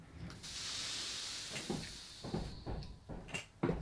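Metro train doors on an 81-717.5P Aquarium train in the Garry's Mod Metrostroi video game, a sustained pneumatic hiss followed by several mechanical thuds and clunks as the doors shut, close and without talk.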